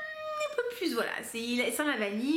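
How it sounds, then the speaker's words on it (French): A house cat meows several times up close, drawn-out rising and falling cries, while a person talks over it. "Le bruit que vous entendez, c'est le chat."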